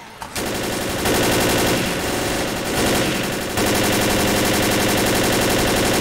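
Rapid automatic gunfire from the zombie shooter Left 4 Dead, loud and continuous throughout, sustained bursts layered over one another with a few brief shifts in intensity and no pauses.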